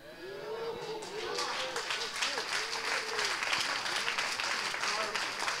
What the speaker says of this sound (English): Come on, clap with me.